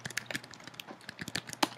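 Typing on a computer keyboard on a Mac while entering Terminal commands, a quick irregular patter of close key clicks alone in a quiet room.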